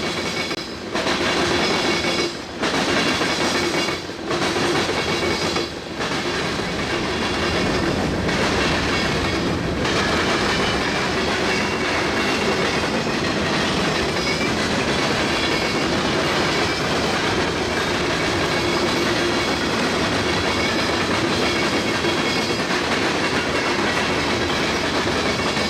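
A Union Pacific or Metra train rolls steadily through the junction at West Chicago, with loud continuous rumble, rhythmic clickety-clack over rail joints and faint wheel squeal, close by and sustained throughout.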